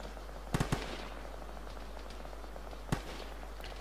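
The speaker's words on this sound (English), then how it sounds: "there's definitely shots" Gunfire in a military shooter video game: a quick burst of two or three shots, then a single shot a couple of seconds later, sounding distant and faint over steady background noise.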